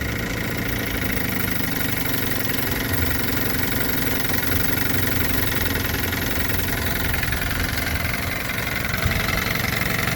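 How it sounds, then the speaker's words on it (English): A 1971 Johnson 6hp short-shaft two-stroke outboard motor idling low in gear, a steady close rumble with a fine rapid knocking texture that holds unchanged throughout. "See how low she'll idle in gear."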